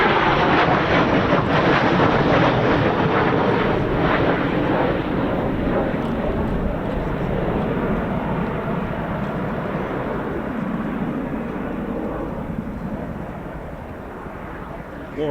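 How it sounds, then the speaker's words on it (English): A Hawker Hunter jet arriving at the Royal International Air Tattoo at RAF Fairford roars past, a loud sustained engine rush that fades slowly over about fifteen seconds. "What a lovely looking aircraft. The Hawker Hunter."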